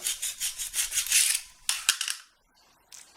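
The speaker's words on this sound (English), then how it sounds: "I'm just using a hand scraper to scrape all of the adhesive off the floor" A hand scraper scrapes adhesive off a bathroom floor in a quick series of rough rasping strokes, then a few sharp knocks and scrapes before it goes mostly quiet.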